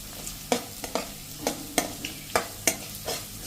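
Raisins crackle and sizzle in hot oil in a pan, stirred with a spoon that scrapes and clinks in repeated short bursts over a continuous fry.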